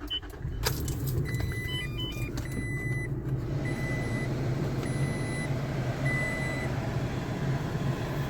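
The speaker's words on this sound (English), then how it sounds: "I'm going to turn on the truck and get the vents going" Engine of a third-generation Toyota Tacoma truck idling steadily with the cabin vents blowing, a low continuous rumble joined at the start by a key jangle and a series of electronic chimes.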